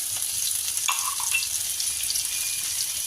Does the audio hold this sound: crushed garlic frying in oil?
yes